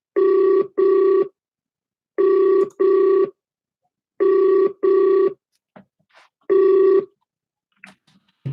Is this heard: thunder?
no